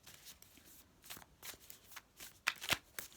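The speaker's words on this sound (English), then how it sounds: "Just gonna give the Moonology a shuffle." A deck of Moonology oracle cards is shuffled by hand in quick, soft riffling bursts that repeat several times, close and fairly quiet, with the last few pushes louder and crisper; no talking.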